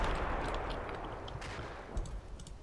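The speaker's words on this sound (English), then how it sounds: "That sounds like rockets or something, doesn't it?" Rockets or artillery fire in the war game Combat Mission Black Sea roll in as a dense, rumbling barrage with sharp crackling bursts, continuous and fairly close, with no voices.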